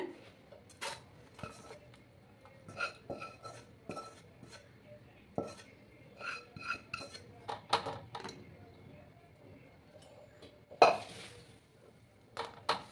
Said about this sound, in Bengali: এবার আমি গ্যাসটা অফ করে একটা থালার মধ্যে আমি নামিয়ে নেব।